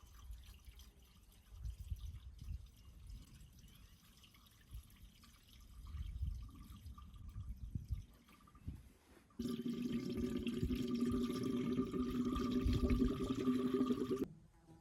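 Pre-mixed 50-50 antifreeze pours into the radiator of a John Deere 750 tractor, with soft intermittent trickles and splashes giving way to a louder, steady gurgling stream.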